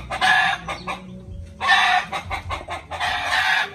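Darag hens, a native Filipino chicken breed, cluck and cackle close by in repeated bursts with short pauses between them, loud and clear with no talk.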